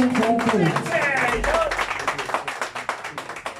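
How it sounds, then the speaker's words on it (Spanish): An audience applauds a mariachi musician at a birthday celebration. A voice carries over the first second and a half, then a steady, rhythmic patter of clapping comes to the fore and continues to the end. "Y el aplauso para él"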